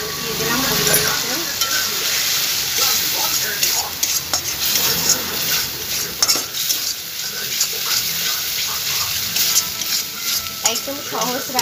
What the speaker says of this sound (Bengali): একটু তেলের উপর কালো জিরে দিয়ে সর্ষে, পোস্ত, রসুন, লঙ্কাটা পেস্ট করে একটু ফ্রাই করে নিতে হবে